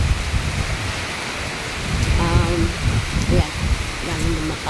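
Strong Typhoon Inday wind and rain roar in gusty, continuous broadband noise, with surges in strength, while a voice speaks briefly over the storm.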